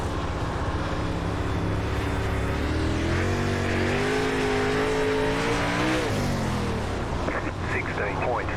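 A dirt late model race car engine roars steadily in the iRacing sim on the Lincoln Speedway dirt oval, its pitch climbing and dropping through a lap, loud and close, with a voice talking over it.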